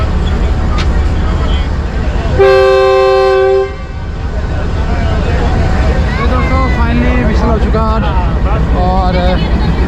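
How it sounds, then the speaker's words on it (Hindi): Sandal Express train horn sounding at departure from Sargodha toward Jhang, a loud steady blast of about a second over constant crowd noise and chatter, with voices continuing after it stops. "5-6 साल बाद ये ट्रेन जो है वो चल रही है, सांदल एक्सप्रेस।"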